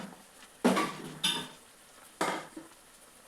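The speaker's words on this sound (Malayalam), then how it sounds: "എന്നാൽ നമുക്ക് ഇളക്കി കൊടുക്കാം." Chicken curry stirred in a pot, a few distinct scraping clanks of a spoon against the metal spaced about a second apart, close and fairly loud over a quiet background, no one talking.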